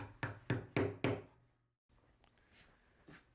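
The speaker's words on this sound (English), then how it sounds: "Next, we square up the mortises using a sharp chisel." A sharp chisel is struck four times in quick, even succession to square up mortises in wood, each hit a loud, close knock, followed by a pause and soft scraping and tapping.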